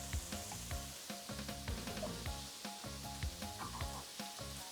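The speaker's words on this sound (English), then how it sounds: "So it's a nice colorful mix of vegetables. Cook them on high heat." A colorful mix of vegetables fries over high heat, loud, dense sizzling and crackling held close to the pan, broken by rhythmic scraping and stirring strokes.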